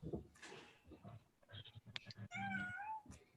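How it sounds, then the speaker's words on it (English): A pet cat meows close by indoors, a few short calls and then a longer drawn-out meow, faint and clear against a quiet room. "And it looks like my cat's going to be joining us as well."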